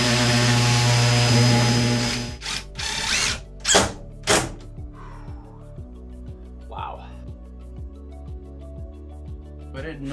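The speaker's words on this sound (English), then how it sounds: "I'll pre-drill it and see what happens." A power drill pre-drills through shiplap wall boards inside a van conversion, with a loud continuous run first, then several short bursts and ratcheting mechanical clicks, close up.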